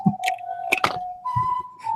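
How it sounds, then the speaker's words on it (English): A cheerful tune whistled in clear sustained notes over a couple of seconds, with small clicks and rustles around it. "Yeah, just turn it up really loud, the whistling, so they hear it upstairs."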